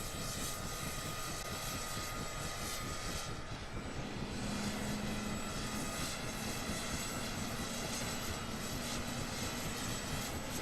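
Chinook twin-rotor helicopter in Microsoft Flight Simulator 2024, a steady, loud engine and rotor drone holding a constant pitch throughout, with a low tone joining partway through.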